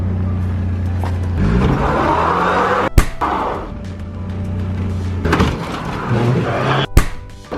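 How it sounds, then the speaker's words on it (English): Small 2000 Chevy S10 four-cylinder pickup straining and revving as it drags a Honda Civic engine and transmission out, its engine noise rising and falling, with two sharp loud bangs partway through. "I'm trying to pull it out with this little dinky truck. Like a 2000 Chevy S10 4-cylinder."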